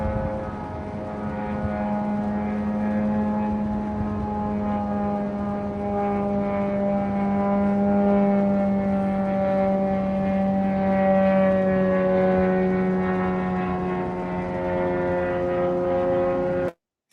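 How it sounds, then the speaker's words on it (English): An Iranian Shahed drone flies overhead with a steady, loud, droning engine buzz that holds an even pitch and rises slightly in strength as it passes, lasting throughout with no talk. "So that's one of Iran's Shahid drones."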